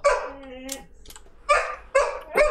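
A dog barks in short bursts indoors, several sharp yelps spaced across a couple of seconds over a low room hum, with a game session in progress.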